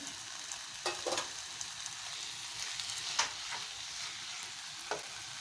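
A spoon stirs grated coconut and chopped coriander into mashed eggplant bharit in a pan, giving a soft, steady scraping and light sizzle with a few sharper clinks of the utensil against the pan.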